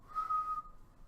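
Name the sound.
voice imitating a Weenie Whistle toy whistle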